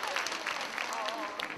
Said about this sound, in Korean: 구민회관 대강당을 가득 메운 700여 관중들은 열렬한 박수와 웃음으로 화답합니다